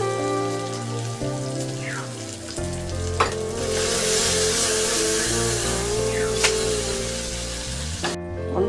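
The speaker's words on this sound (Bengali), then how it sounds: "আমি এখন এটা মাছটা কড়াই ঝাঁকায় উল্টাবো" Fish fries in a hot wok (kadai) as it is shaken and flipped, giving a loud, continuous crackling sizzle with a few scraping knocks from the tossing throughout.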